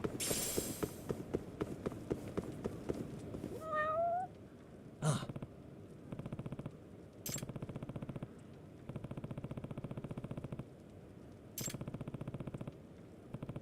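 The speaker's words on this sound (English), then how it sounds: "is that really the cat I just heard right there?" A cat meows several times within the video game Judgment, with rising whines near the start over busy game sounds and music, then quieter looping ambience with occasional sharp bright clicks.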